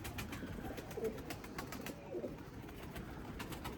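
Limoni breeding pigeons coo softly in a loft, with a few low, faint calls over a steady hum of ambient background noise.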